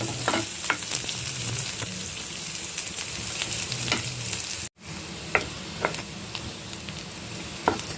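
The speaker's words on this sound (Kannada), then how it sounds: "ಒಂದು ಸ್ವಲ್ಪ ಈರುಳ್ಳಿ ಚೆನ್ನಾಗಿ ಕೆಂಪಾಗೋವರೆಗೂ ಒಗ್ಗರಣೆ ಮಾಡಿಸ್ಕೋಬೇಕು" Onions frying in hot oil for a tempering, with a steady close crackling sizzle and occasional stirring scrapes, continuing for several seconds broken by one brief cut, with no talk.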